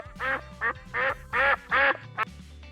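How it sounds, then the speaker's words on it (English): A duck quacks six times in a row, each quack short, nasal and loud, with brief gaps between them and no talking. "Duck."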